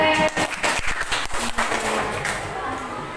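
Schoolchildren in a classroom clap together for a classmate, several quick rhythmic bursts of hand claps that fade out, with a teacher's voice close by.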